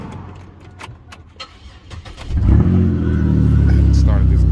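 A Chevrolet Monte Carlo engine starts after some quiet clicking and handling sounds, then catches with a loud rumble and settles into a steady, close idle.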